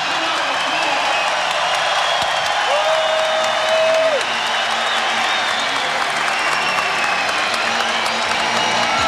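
Applause and cheering from a basketball arena crowd at a UOP vs. UCSB game in 1997, a broad, steady wash of clapping that fills the clip while a commentator talks over it.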